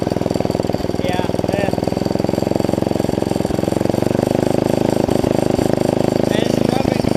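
An 11 HP Tecumseh engine on a mini bike fitted with a 30 series CVT torque converter runs with a steady, loud, rapid chugging idle, close up, while a person talks over it.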